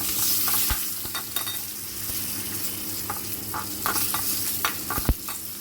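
Curry leaves crackle in hot oil for a tempering for sabudana curd rice, making a loud steady sizzle broken by sharp pops and stirring scrapes.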